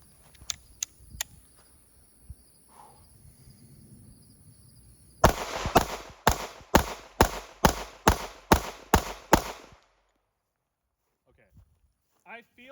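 A pistol with a Brownells ported barrel fires Blazer 124 grain ammunition: a few faint early pops, then a rapid string of about nine loud, evenly spaced shots, followed by quiet with light handling noises.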